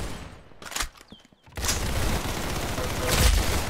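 Gunfire rattles in Roblox Arsenal, a few sharp shots after a brief lull, then a dense, loud burst of rapid fire that keeps going to the end.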